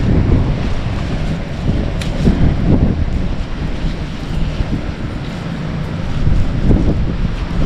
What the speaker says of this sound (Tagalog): Ayan na ang hangin. Lakas ng hangin.